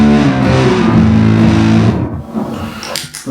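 Electric guitar played through a Big Muff distortion pedal, thick fuzzy sustained chords ringing loud and close for about two seconds before decaying into silence.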